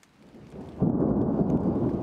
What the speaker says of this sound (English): A storm plays an ensemble above the cabin in the forest.